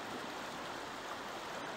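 The Elbow River in Kananaskis Country rushing in winter near the falls, a steady broadband roar of flowing water heard close and continuous with no voices.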